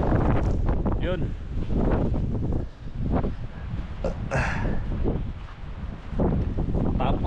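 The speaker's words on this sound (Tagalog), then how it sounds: "pauwi na ako mga ka-parts dahil lumalakas ng hangin" Strong wind in Iceland roars and buffets the microphone throughout in a loud, continuous rush, while a person talks over it.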